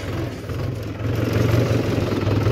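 A farm tractor with power steering, engine running with a steady low rumble and clatter that swells louder partway through, close and continuous with no talk.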